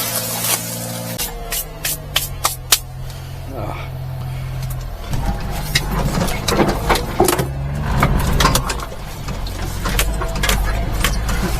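A supercharged mini-truck engine idles steadily after warming up, its low running drone continuous beneath people talking nearby, with clicks and knocks scattered over the top.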